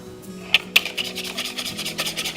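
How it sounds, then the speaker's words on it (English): A whisk scrapes rhythmically against a bowl of egg yolks for homemade ice cream, close quick rasping strokes with a couple of sharper clinks early on. "So I've been whisking these egg yolks"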